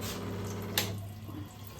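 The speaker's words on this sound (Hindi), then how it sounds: "तो हम यहाँ पर एल्कलाइन फ़िल्टर का पानी जमा कर रहे हैं" Water pours steadily from the alkaline filter outlet of an RO water purifier into a container, a soft continuous close-up flow with one brief splash partway through.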